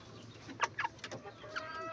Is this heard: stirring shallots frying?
no